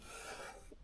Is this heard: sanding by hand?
yes